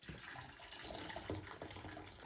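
Tap water runs steadily into a basin while someone washes their face at home, with splashing and trickling bursts close by, faint and continuous for a couple of seconds without speech.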